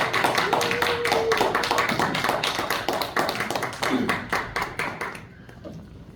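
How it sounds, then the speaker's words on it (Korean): Dense applause from a crowd at a church pastors' and elders' education conference in Korea, many hands clapping steadily for several seconds before tapering off near the end. "박수로 환영드립니다."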